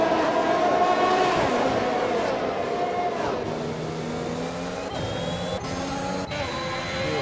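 Race cars at the Singapore GP in a racing video game, several engines whining and revving together in a steady loud drone, with rising and falling pitch as cars accelerate and shift.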